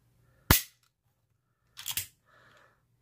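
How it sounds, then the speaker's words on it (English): A Davis/Cobra .380 pistol is dry fired indoors, giving two sharp metallic trigger clicks about a second and a half apart, then a softer mechanical rattle, close and isolated with no talk. "Generally, I don't like to dry fire these pistols like this, but we're going to do it for the sake of function."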